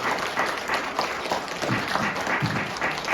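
Wedding guests at a ceremony without an officiant in a Techno Mart wedding hall applaud the newly declared couple, a steady moderate wash of clapping with a few scattered louder claps.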